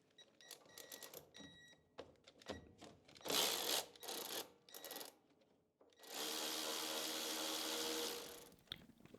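A power drill runs on the carburetor linkage of a Land Rover Series 2A, beginning with short bursts and then holding one steady, loud whir for about two seconds before it stops.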